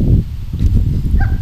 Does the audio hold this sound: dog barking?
yes